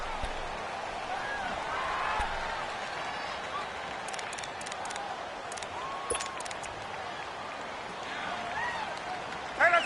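A stadium crowd in a PS4 football video game roars steadily as home-field noise, a continuous wash of cheering with occasional louder swells, running under a commentator's voice throughout.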